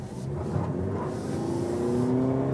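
A 2024 Toyota Prius hybrid's combustion engine runs while driving at around 50 km/h, a steady moderate engine hum with a faint rising tone under road noise, no voices.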